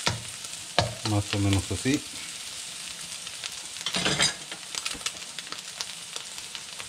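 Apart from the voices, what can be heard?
beaten eggs frying in a pan for pork fried rice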